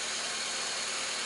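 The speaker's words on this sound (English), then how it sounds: "Okay, now engine is running," A Toyota Corolla engine idles during a radiator coolant replacement, a steady, even hum with no talk, running briefly and unchanged.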